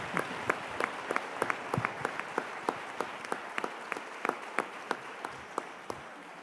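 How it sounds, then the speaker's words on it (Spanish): Applause from a small audience at a round-table panel on healthcare humanization, heard as a few distinct, fairly quiet hand claps rising and falling irregularly rather than a dense roar. "Fuerte aplauso para Ingrid, ¿no?"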